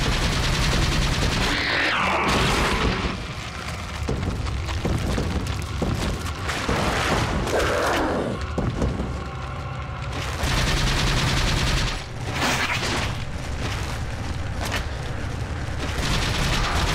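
TMP submachine gun fire in Resident Evil 4 (2005) game audio: loud, dense rapid bursts of automatic shots and booming impacts that run almost without a break, with brief lulls between volleys.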